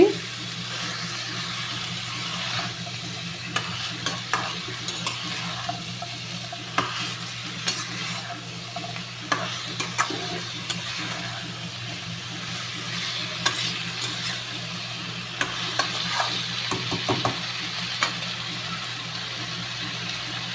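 Peas fry in a pan with a steady sizzle under repeated scraping and stirring of a utensil against the pan, over a low constant hum, close and continuous.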